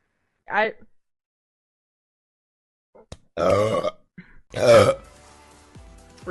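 A short burp followed by two longer, loud, close belches with a guttural rumbling tone, separated by brief pauses.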